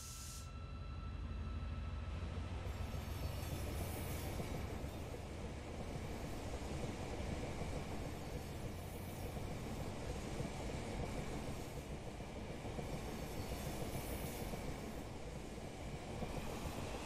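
Class 68 diesel locomotive 68028 departs Huddersfield station, a loud steady engine roar and rolling rumble filling the whole stretch with faint wheel clatter, no talk.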